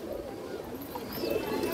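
Domestic border pigeons, including kalsire and teddy types, coo softly in a low, steady murmur at dusk, at a moderate distance with no talking.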